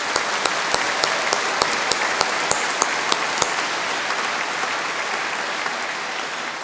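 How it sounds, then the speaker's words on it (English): An audience at a university engineering event applauds its staff, a continuous crowd of clapping with a few sharp, close individual claps standing out in the first half before the sound evens out. "a big round of applause to our staff to achieve that"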